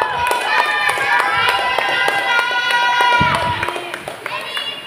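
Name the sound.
audience applause for the debate team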